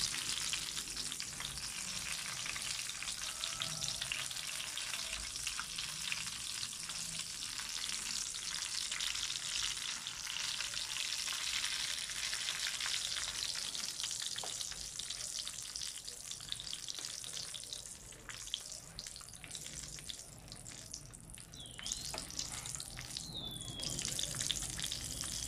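Purslane fritters fry in hot oil with a dense, steady crackling sizzle, close and continuous throughout with no voices over it.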